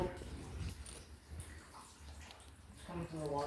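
Coolant trickles and drips from the water pump of a 1996 Firebird engine into a pan and onto the floor, a soft, faint splashing beneath people talking.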